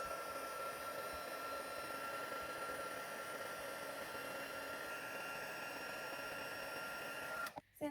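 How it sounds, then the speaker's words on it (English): A craft heat tool blows hot air over white embossing powder on a stamped greeting card, a steady close whirring hiss that runs unbroken until it cuts off near the end. "I'm just going to use my heat tool just to heat it up."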